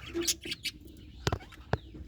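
Birds call around nests, giving short chirps and coos close by, with a couple of sharp knocks or wing-flaps cutting through.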